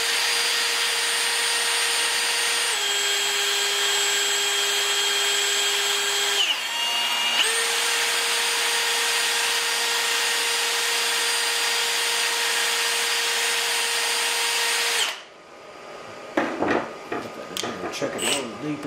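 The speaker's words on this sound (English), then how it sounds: "It's a German drill" A German power drill runs at a steady high whine while boring into wood during fitting work on a Kibler Woodsrunner rifle. The pitch dips briefly midway, then the motor stops, followed by clattering handling noises.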